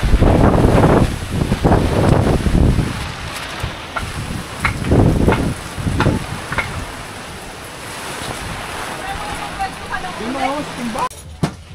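Strong wind from Typhoon Crising on a farm roars and gusts steadily against the microphone, with surf-like rushing and voices talking at times beneath the noise.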